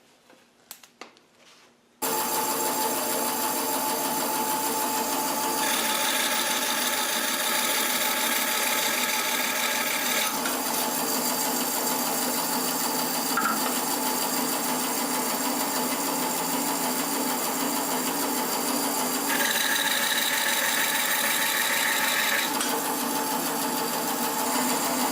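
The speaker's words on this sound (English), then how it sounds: "And then I go and repeat the cuts on the second board." Saw cutting a wooden board on an auto-indexing wedge table, starting abruptly after a short quiet lead-in and then running as a loud, steady whine for over twenty seconds, with the pitch shifting slightly as cuts proceed.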